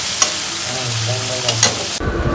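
Onions and chillies fry in a little oil with a steady sizzle, broken by a few sharp scraping stirs, then a louder burst of crackling near the end as the pan is stirred.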